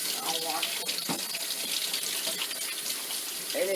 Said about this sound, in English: my hands are clean, but I'll wash them